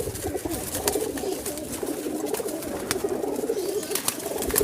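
Teddy high-flying pigeons in a breeding setup coo softly and repeatedly, their low burbling calls overlapping steadily amid faint background noise with no talk.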